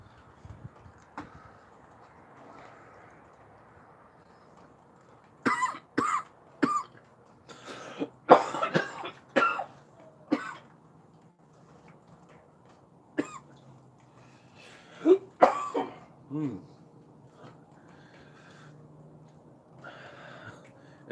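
A man coughs in a series of sharp, close bursts with some throat clearing, in clusters separated by quiet stretches, alone without talk.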